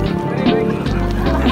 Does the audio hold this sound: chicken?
yes